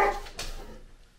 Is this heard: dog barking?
yes